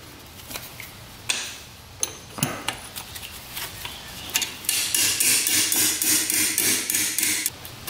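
A hammer strikes metal while trying to free a rusted stud on an old two-stroke trike left outdoors for years: several spaced, sharp clanks, then a rapid, loud run of repeated blows.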